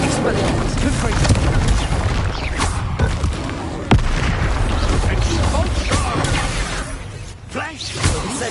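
Spell explosions from the Confringo blasting curse in Hogwarts Legacy keep up loud, continuous booms and crashes with whooshing bursts and a sharp hit near the four-second mark, heard close with no pause.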